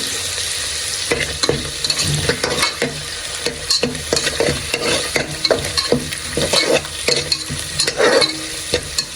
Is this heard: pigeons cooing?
no